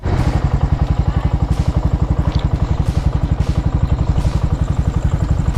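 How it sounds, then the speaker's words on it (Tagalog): A motorcycle engine idles close by with a fast, steady, even putter that runs the whole time, with faint talk in the background. "Ito yung motor."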